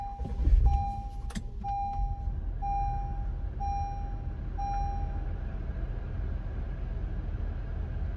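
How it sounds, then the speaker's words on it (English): A car's engine turns over with a short low burst, then idles in a steady rumble while a dashboard chime beeps repeatedly at a regular pace. "Now let's start the car."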